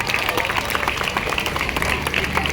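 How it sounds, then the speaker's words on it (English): Applause from a crowd at a school math day celebration, steady dense clapping filling the room throughout, moderately loud with no voices standing out. "given a big round of applause to all the math department faculties"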